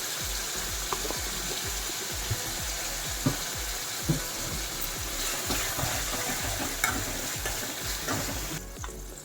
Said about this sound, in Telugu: ఉల్లిపాయలు మెత్తబడే వరకు ట్రాన్స్పరెంట్ అయ్యే వరకు బాగా వేయించుకోవాలి